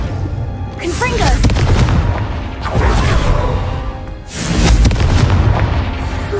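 Booming Confringo spell blasts go off again and again in Hogwarts Legacy, loud and continuous, with a voice shouting spell names over the explosions.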